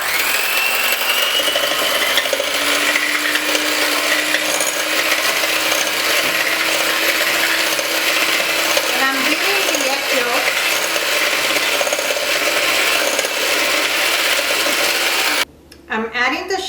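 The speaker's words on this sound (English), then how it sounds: "Now I will be using a hand mixer." An electric hand mixer whirs steadily and close up through tres leches cake batter, a continuous buzzing drone that holds for most of the time and then cuts out briefly near the end.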